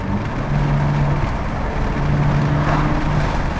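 A car with titanium front mount intakes and an aftermarket exhaust hums and drones loudly and steadily up close, with a low exhaust rumble and slight shifts in pitch.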